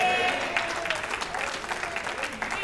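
A church congregation applauds during a sermon, a brief stretch of moderate, fairly dense clapping with some voices mixed in.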